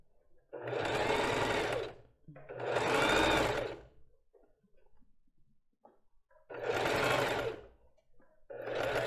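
Sewing machine stitching lined lace bra cups in bursts of steady, buzzing stitching separated by quiet pauses with faint handling sounds between runs.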